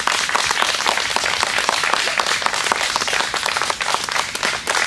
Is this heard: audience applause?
yes